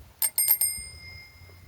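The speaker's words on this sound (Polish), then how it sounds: "dzwonek działający" A bicycle bell on a 1987 Wigry 3 bicycle rings in four quick, close bright strikes, then its metallic tone lingers and fades over the next second with no talking.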